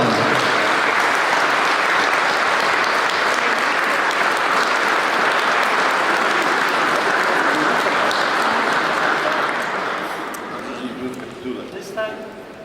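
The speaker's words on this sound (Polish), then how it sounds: "Wielkie brawa!" An audience at a municipal awards ceremony in Tłuszcz applauds a prize winner, dense steady clapping from many hands that holds loud for about ten seconds, then thins out into scattered claps.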